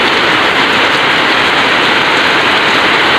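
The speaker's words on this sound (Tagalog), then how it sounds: "Talagang malakas yung ulan." Heavy rain pours down in a loud, dense, unbroken hiss, close by and steady throughout.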